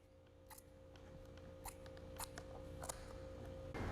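Scissors snipping excess material off the back of a fiberglass car audio pod, a few sharp, quiet cuts spaced over a steady low hum.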